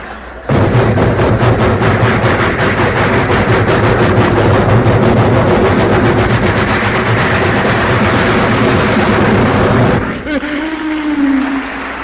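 A voice imitates a long train rumbling steadily past, a loud dense chugging roar with rapid rhythmic pulses that runs unbroken for about ten seconds, then cuts off into a brief fading whistle-like tone.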